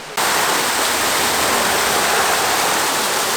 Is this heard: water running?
yes